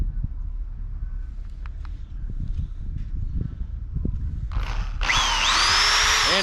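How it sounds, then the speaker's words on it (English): A power drill bores holes through a cabover truck roof to mount a drop visor, whirring on and off faintly at first, then a loud sustained drilling burst toward the end over wind noise. "Alright, holes drilled."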